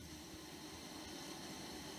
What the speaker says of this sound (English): That's the sound of the water rushing through to the pipe.